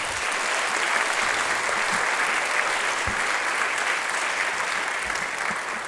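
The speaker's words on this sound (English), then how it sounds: "let's give the students one more round of applause" Sustained applause from a school concert audience for student band members at a high school music department's farewell concert before a trip to England, a steady dense wash of clapping filling the whole stretch with no talk over it.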